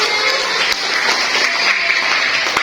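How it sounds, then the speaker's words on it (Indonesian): Steady clapping from a group of students in a classroom, dense and continuous, close and fairly loud. "Tepuk tangan dong buat teman-teman."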